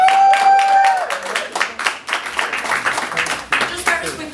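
A small audience claps for a co-host at a campaign talk, a sparse patter of individual hand claps with audible gaps, over a short stretch of talking near the start.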